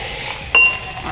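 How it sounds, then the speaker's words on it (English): Liquid nitrogen boils in a container at room temperature, giving a soft, steady hiss with one brief clink partway through; no voices. "My liquid nitrogen is boiling in that container."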